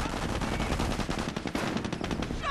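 Sustained machine-gun fire and rifle shots from a Company of Heroes battle, rapid rattling bursts packed densely and loud throughout the short stretch.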